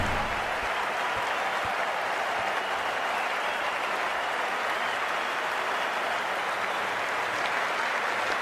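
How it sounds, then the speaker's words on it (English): A stadium crowd in the video game Cricket 24 cheers and claps without a break before a Women's ODI World Cup Final between India and South Africa, a dense, even roar of applause at steady loudness throughout. "We're about to get underway and already the crowd is up and about."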